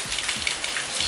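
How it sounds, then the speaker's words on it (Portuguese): Steady rain falls around a Volkswagen Saveiro pickup, a dense, continuous patter and hiss with scattered louder drops, moderately loud with no voices. "E essa chuva não para."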